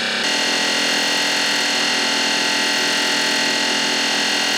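A Tormach 8L lathe spindle running up to 2,500 RPM, a dense, steady mechanical whir with a high whine that holds constant and loud from start to finish, no talking.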